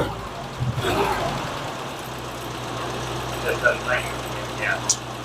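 An Amigo's engine, with freshly adjusted valves, idles with a low, steady hum beneath faint background noises and a few brief higher sounds.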